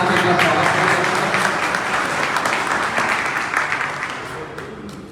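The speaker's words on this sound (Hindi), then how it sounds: "सभी तालियों की गड़गड़ाहट के साथ इनका स्वागत करूंगा।" An audience at a Karni Sena meeting in Bhopal claps loudly and continuously to welcome a speaker, a dense wall of applause that slowly tapers off toward the end.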